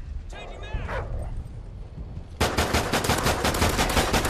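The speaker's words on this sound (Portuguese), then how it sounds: "Cuidado, está um cão, está um cão, cuidado, está um cão." A dog barks in a match of Call of Duty: Ghosts, a cluster of yelps followed by rapid bursts of in-game gunfire, with players talking over it.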